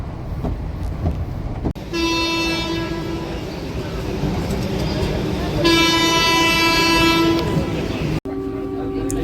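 A train pulls into a station with a loud, sustained rumble of wheels and carriages, sounding its horn twice in long blasts, while people talk nearby.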